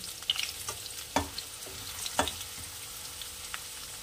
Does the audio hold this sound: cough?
no